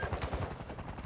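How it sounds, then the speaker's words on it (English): Shotgun fire in a video game, heard as a rapid run of loud, close blasts. "He's using a shotgun."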